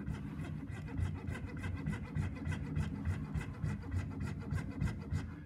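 A blade carves through a half-inch-thick block of wax while shaping a hinged bangle, giving a steady run of close, scraping rasp-like strokes in quick rhythm.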